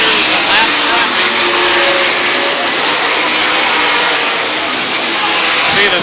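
WOW sprint cars race on the State Fair Speedway track, engines roaring loudly and continuously as the pack streams down the front stretch, under steady commentary.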